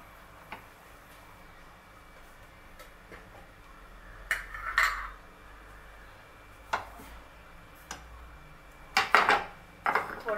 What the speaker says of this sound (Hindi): एक बर्तन रखेंगे तड़का लगाने के लिए और उसे अच्छे से गर्म कर लेंगे